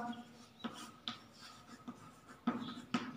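Chalk or marker strokes on a classroom board during a chemistry lesson, a few short scratchy taps and scrapes spaced irregularly, fairly faint, with some quiet background voice.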